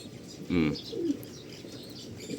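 Soft cooing from pigeon chicks, a couple of short low coos rising just above a quiet background.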